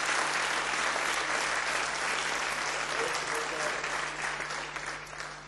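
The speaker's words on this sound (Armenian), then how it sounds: "ծափահարությունները նրանց" A studio audience applauds at a televised music show, a dense, steady wash of many hands clapping close and loud, fading slightly toward the end.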